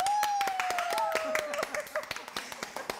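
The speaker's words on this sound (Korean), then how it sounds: "박수 한번 주세요." Hosts on a Korean village food show clap at a lotus-leaf meal, a quick run of close, crisp hand claps under a sustained voice.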